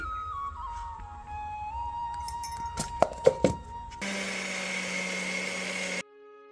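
After a few clinks and thin tonal whines, a mixer grinder roars into a dense, steady whir for about two seconds, grinding coarse sugar into fine powder, then cuts off abruptly.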